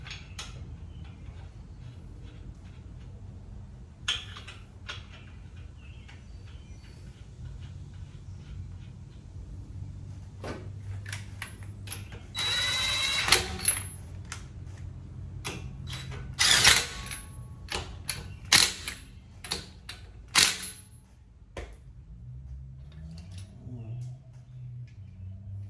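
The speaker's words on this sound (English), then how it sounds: "Going to put our new lug nuts on." Metal clinks, ratcheting clicks and scraping sound out as new lug nuts are fitted onto a 2018 Ford Edge wheel in a home garage, with irregular bursts of tool and hardware noise over a low background hum.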